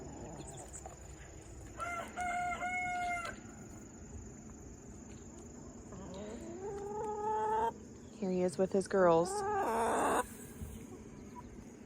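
In a backyard coop, a young red rooster crows in a few strained bursts while his hens cluck around him. A person speaks briefly over a steady background hum.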